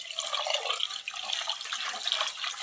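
Water pours into a pot of rice in a steady splashing stream, hissing and bubbling continuously with a brief dip midway.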